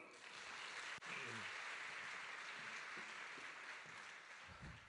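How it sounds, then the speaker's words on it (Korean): Quiet, steady applause from a church congregation fills the hall, with a few faint voices murmuring underneath. "박수."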